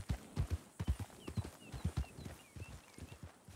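Hooves from a group of horses clip-clop in a steady, uneven rhythm, moderately near but faint overall, with birds chirping in the background.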